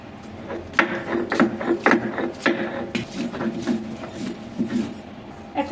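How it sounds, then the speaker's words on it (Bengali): Onion and garlic being ground on a grinding stone, giving repeated scraping, rubbing strokes in an uneven rhythm, close and moderately loud, with no speech. "এখন বেটে নেব পেঁয়াজ আর রসুনগুলা।"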